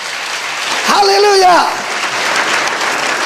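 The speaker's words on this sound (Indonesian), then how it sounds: "Berikan tepuk tangan bagi dia." Congregation clapping in a church service, a steady broadband wash of applause with a voice calling out over it partway through.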